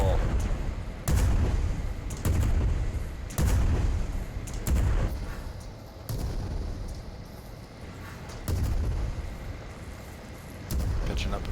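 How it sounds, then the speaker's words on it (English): Cannon fire in the video game Worlds Adrift: a string of heavy booming shots about a second apart, loud and close, with people talking over the blasts. "Cannonball."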